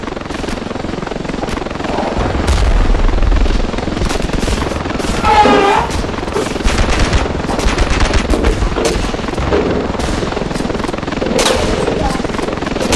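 Gunfire in the Ravenfield video game, rapid bursts of automatic shots over a constant helicopter rotor drone, loud and close throughout.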